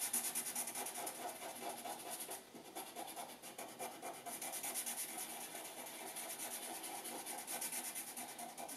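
A black crayon rubs steadily across paper as circles are drawn freehand, a close, faint, continuous scratchy scraping with a short pause partway through.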